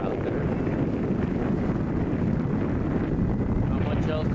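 Wind rushes across a sailboat at sea around sunset, a loud, steady buffeting roar close to the microphone.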